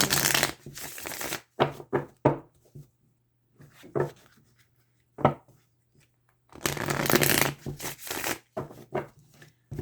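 Twin Flame Journey Tarot cards being shuffled by hand in bursts of papery riffling and shuffling, with quiet pauses between the bursts.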